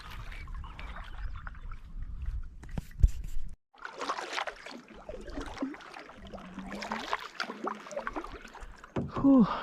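Canoe paddle strokes dipping and splashing on the Larder River while paddling upstream, with water trickling and dripping between strokes, close and fairly quiet over light outdoor ambience.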